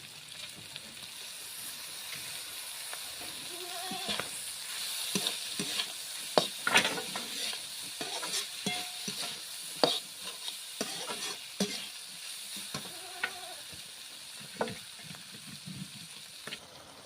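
Chopped tomato frying with figs and oysters in a village kitchen pan, a steady close sizzle broken by repeated scraping stir strokes and small clatters, with no voices.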